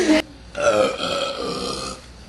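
A girl lets out a loud, drawn-out burp after drinking, heard close up and alone, preceded by a brief sharp sound.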